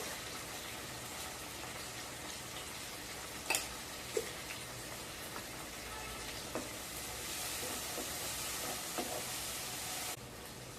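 Curry leaves dropped into hot oil, crackling and sizzling in a steady hiss with a few sharp pops scattered through, fairly quiet and without talk.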